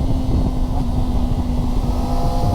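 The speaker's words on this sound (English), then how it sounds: "You do the quick shifter down." A Kawasaki ZX4RR sport bike runs nearby with a loud, steady engine drone and a constant tonal hum. A quick-shifter downshift is underway.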